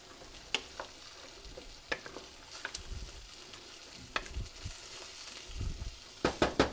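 Beef stew simmers in a pot over raised heat as wine cooks off, with a soft steady sizzle and bubbling under occasional scraping stirs and clinks of a utensil, faint and close.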